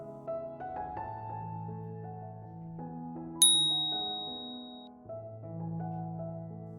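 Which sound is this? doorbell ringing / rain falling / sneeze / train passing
doorbell ringing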